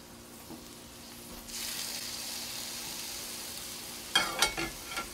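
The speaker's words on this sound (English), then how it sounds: "Listen to that sizzle." Steak sizzling on a hot grill, a steady close hiss that swells partway through and runs alone, with a few sharp clinks near the end.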